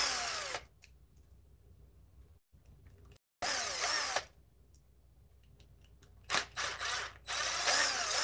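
Power drill removing screws from an RC car differential, a Kraton EXB, with loud whirring bursts separated by quiet gaps, close to the listener, one longer run near the end.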